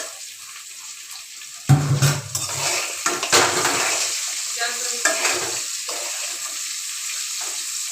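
Cut eggplant drops into hot mustard oil in a kadai with already frying potato, setting off a sudden loud sizzle that settles into steady crackling and stirring scrapes.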